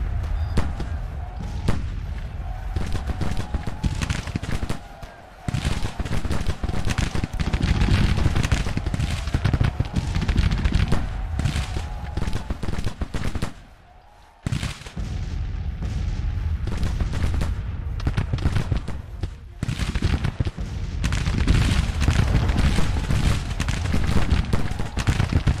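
Cannon and musket fire thunder throughout a Civil War battle in Grand Tactician, a dense, continuous barrage of booms and crackling volleys with brief lulls.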